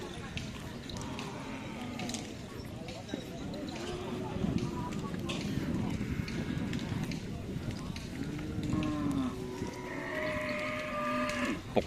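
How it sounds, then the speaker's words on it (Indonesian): Cattle low repeatedly at a Karapan Sapi bull race in Sumenep, Madura, their drawn-out moos rising over a busy crowd with people talking nearby throughout. "Ini ada sapi besar ya, teman-teman."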